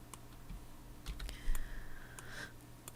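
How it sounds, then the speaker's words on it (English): A computer keyboard shortcut, Control plus G, pressed during design work, giving a few soft, close key clicks spread over a quiet background. "doing Control on my keyboard and G"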